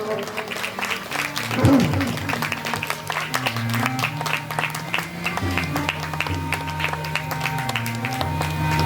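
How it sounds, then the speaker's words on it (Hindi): Crowd clapping during an aarti at a village Ram Katha gathering, a steady wash of applause carrying under a voice and music throughout. "जोरदार ताली से स्वागत करते रहेंगे आप सभी लोग।"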